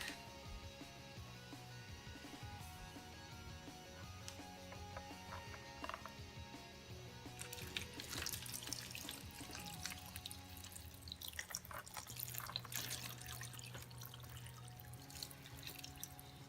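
Water pours steadily for a long stretch into a Jiffy greenhouse seed tray, growing louder and splashier partway through, with faint clinks and handling noises.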